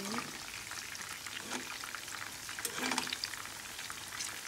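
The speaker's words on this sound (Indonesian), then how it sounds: "Nanti kita goreng kayak telur dadar gitu dikasih tepung" Flour-battered chicken fries in a small amount of oil in a home kitchen, a steady dense crackle and sizzle that swells slightly now and then, close and continuous throughout.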